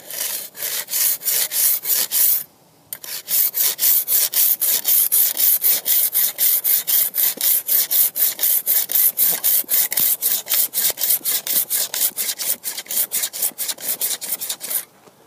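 A hand saw cuts at an angle into a thick block of ice while carving a goblet, giving a fast, steady run of loud rasping back-and-forth strokes, with one brief pause early on before the sawing resumes.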